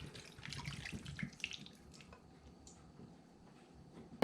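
Water with apple and pineapple juice poured over pork ribs in a pot, a faint, close liquid splashing and gurgling that fades to quiet with a sharp knock at the end.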